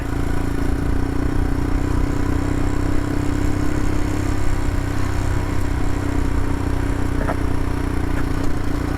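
Royal Enfield Himalayan motorcycle riding along a snowy mountain road, its engine droning steadily and close with continuous rumble and some clatter, no pauses throughout.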